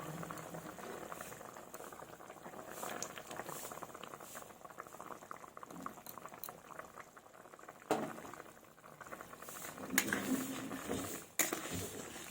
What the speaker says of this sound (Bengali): এবার আমি সবজিগুলো ভালোভাবে সিদ্ধ করে নেব, যাতে আমার সমস্ত সবজি ভালোভাবে সিদ্ধ হয়ে যায়।